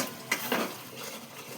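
Chicken kofta curry with jaggery powder is stirred in a pan, a couple of close scraping strokes of the spoon over a soft sizzle.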